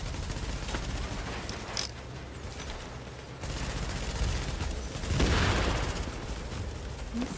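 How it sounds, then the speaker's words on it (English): Sustained automatic gunfire from two turrets in The Division, a dense crackling fusillade that runs throughout with a heavier burst of shots and impacts near the end, loud and close. "He has 2 turrets shooting at him."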